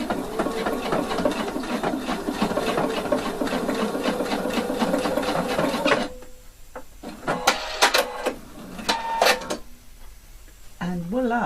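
A sewing machine stitches a placket in a fast, even rhythmic chatter for about six seconds, followed by softer clicks and handling noises of fabric being adjusted.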